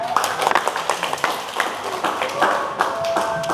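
Classroom audience clapping at the end of a student presentation on flowers and vases made from plastic bottles, a scattered burst of claps over murmuring voices for a few seconds.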